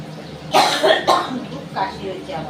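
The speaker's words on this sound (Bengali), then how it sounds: "খুব কাশি হয়েছে আমার" A woman coughs a few times in quick, harsh bursts close to the microphone in a home kitchen while mung dal cooks in a pressure cooker.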